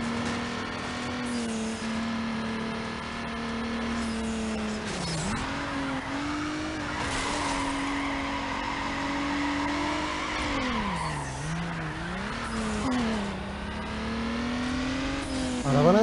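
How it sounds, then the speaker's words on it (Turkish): A Honda S2000 in the Need for Speed Underground racing game spins out, its engine droning steadily while tires squeal and skid in long wavering sweeps for about sixteen seconds, with no talk over it. "Arabanın spin atmasından hiç hoşlanmadım şu an ya."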